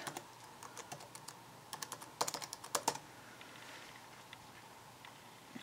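Computer keyboard typing while logging in with an email and password, quick close clicks in short bursts with a denser flurry of keystrokes midway, then a faint quiet background.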